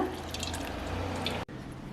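Water is poured into ground, soaked tamarind paste, giving a brief wet dripping and splashing sound, quiet and close, with a short pause near the end.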